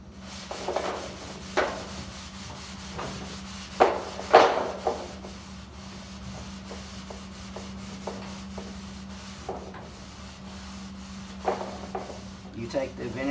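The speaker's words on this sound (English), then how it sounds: "You take the vinegar and apply it on there, and then you scrub it with the steel wool, and it eats the galvanizing off." Steel wool rubs over vinegar-soaked galvanized tin, a soft, continuous scratchy scrubbing with a few sharper rasping strokes, close and fairly quiet over a steady low hum.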